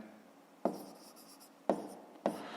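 Chalk or pen strokes on a board or paper during a fifth-grade maths lesson: three short, sharp scratches spaced apart in a quiet room.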